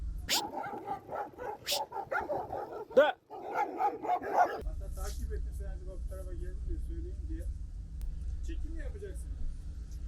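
Stray dogs bark repeatedly in the first half in Ayvalık, sharp and fairly close amid voices, then a steady low rumble of wind or traffic takes over.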